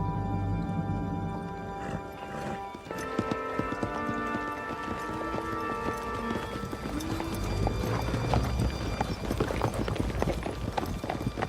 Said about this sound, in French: Jean, veux-tu bien aller chercher cette charrette et ces animaux?